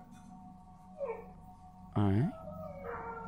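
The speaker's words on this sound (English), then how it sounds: "my dog wouldn't stop barking when I came out" A dog at 4 a.m. howls and whimpers, with a short rising whine followed by a loud, drawn-out howl that bends up and down. A voice speaks briefly nearby.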